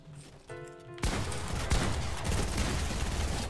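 Fortnite gunfire rings out in a rapid burst of shots. A sharp crack opens it, then a dense, continuous spray of firing follows at steady loudness.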